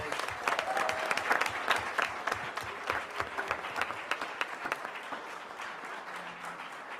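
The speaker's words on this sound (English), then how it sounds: "I just want to give these guys a big round of applause" A crowd at a school board meeting applauds steadily, dense clapping filling the space, fading slightly toward the end.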